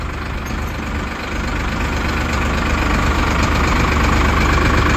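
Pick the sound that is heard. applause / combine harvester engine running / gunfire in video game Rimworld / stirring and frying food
combine harvester engine running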